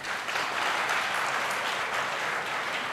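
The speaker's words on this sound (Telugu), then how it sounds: "గురజాడ అప్పారావు గారికి గట్టిగా చప్పట్లు" Strong, steady applause from a student audience honouring poet Gurajada Apparao fills the space, a dense crowd clapping at close range without pause.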